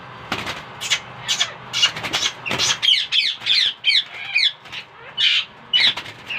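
A female Indian ringneck parrot lets out a rapid series of harsh, close squawks while being caught, the bursts coming in quick succession amid rustling and scuffling.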